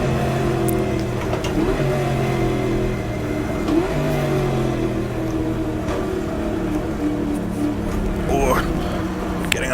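A Ford GT race car engine in the video game GTR2 at a 1966 Daytona 24 Hours race, droning and shifting pitch up and down close by, with someone commentating over it.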